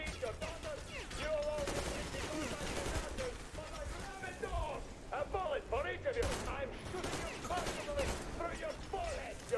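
Gunfire in the post-apocalyptic shooter Metro Exodus, scattered shots and bursts mixed with game sounds and someone talking over the action throughout.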